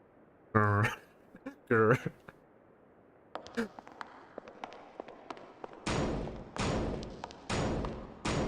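Kanaya banging on a door in the Shin Hayarigami horror game: a run of sharp thuds and knocks, sparse at first and then heavier rhythmic pounding, after two short voiced cries.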